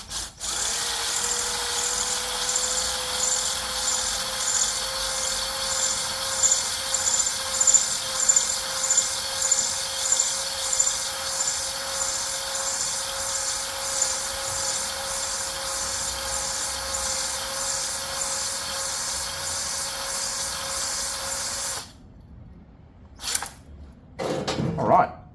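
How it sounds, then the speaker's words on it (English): Power drill running a cylinder hone inside a scooter engine cylinder, a steady whining drone with rubbing scrape that holds for about twenty seconds before stopping, followed by brief knocks. "the drill started to just get a little bit smoother as I was moving it"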